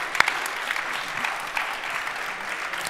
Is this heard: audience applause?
yes